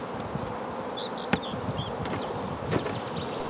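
Honey bees buzzing in an open hive during a Bailey comb exchange, a dense steady drone close by with a few sharper knocks and rustles, no voices.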